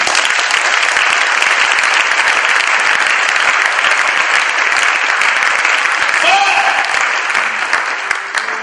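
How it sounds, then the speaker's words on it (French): A church congregation claps steadily and loudly for about eight seconds, a dense wash of applause that thins slightly near the end as a brief voice or tone cuts in. "Est-ce qu'on peut acclamer?"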